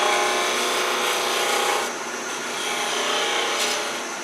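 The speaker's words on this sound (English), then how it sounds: "I'm going to use a little steeper grind with this bowl gouge and come in" Bowl gouge with a steep grind cutting into a spinning wood bowl on a lathe, a continuous loud scraping rasp that dips briefly midway then resumes.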